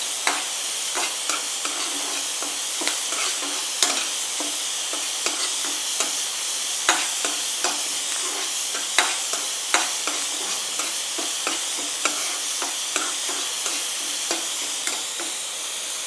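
Elephant foot yam with tamarind sautéed in a pan for chutney, a continuous bright sizzle with regular spatula scrapes and taps throughout, close and steady, with no voices.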